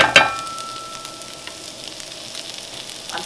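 Corned beef hash fries in about two tablespoons of butter in a pan, a soft steady sizzle with a brief sharp clatter at the start and faint crackles after.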